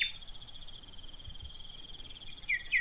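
Crickets chirp in an open meadow, a steady high trilling with a few sharper chirps near the end, fairly quiet and alone against faint low background rumble.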